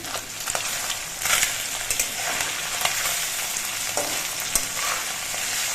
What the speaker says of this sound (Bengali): মাছগুলোর এক পিট কিছুক্ষণ ভেজে নিয়েছি এবার উল্টে দিচ্ছি